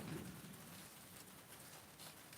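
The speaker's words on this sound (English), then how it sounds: "the rain's a little bit blowing in now" Rain blowing in during a stormy outdoor live gig, a steady close hiss of drops spattering on surfaces that fills the whole stretch without a break.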